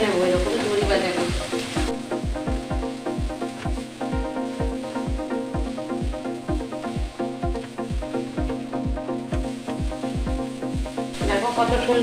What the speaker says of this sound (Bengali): সবজির সঙ্গে ডিমটা মিশিয়ে নেবো